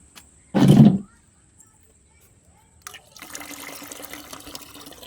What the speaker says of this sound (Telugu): Watering చేస్తాకి water ఇప్పుతానండి.